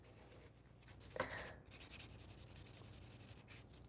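A buffer rubs across a tipped fingernail during a beginner ombre and swirl nail art session, giving a soft, steady scratchy sanding sound that stays close and quiet, with a slightly stronger stroke partway through.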